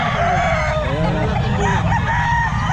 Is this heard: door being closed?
no